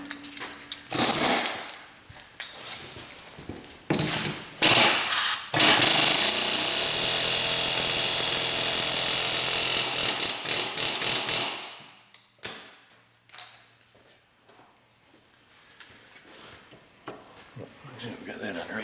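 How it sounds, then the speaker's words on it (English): Air hammer rattling a rear strut on a Ford Taurus sedan during a strut replacement, close and loud: short bursts, then one long continuous hammering run of several seconds before stopping, with quieter workshop sounds after. "I'm going to use the air hammer and just rattle it right back up on."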